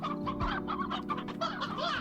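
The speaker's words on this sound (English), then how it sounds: "I cannot get baby chickens in that coop." Hens clucking in the Slime Rancher video game, several overlapping short clucks in a busy, close, continuous chatter with no talking.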